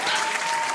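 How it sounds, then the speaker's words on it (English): A crowd applauds steadily, dense clapping at a consistent loudness for a brief moment. "and you can hear them as they all clap to you, Ronaldo."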